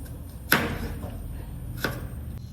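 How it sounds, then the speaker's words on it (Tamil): A knife chops onions for mutton curry, with two sharp, separate strikes on a board about a second apart over a quiet background hum. "chopping the onion."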